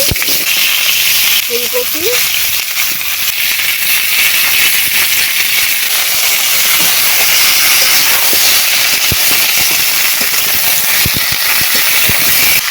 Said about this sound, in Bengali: এখন সবজিগুলো সব ভেজে নেব নতুন আলু এই আলুগুলোই তুলে নিয়েছি গাজর বিন